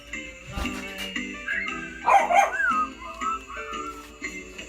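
Small dogs bark in a few sharp yaps, heard moderately close over a steady sung melody with instruments.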